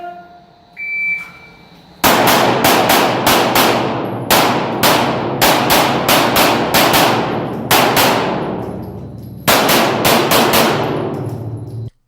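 Pistol shots ring out through a shooting match stage, loud sharp cracks fired close in quick bursts of two to five, separated by brief pauses, after a short beep to start.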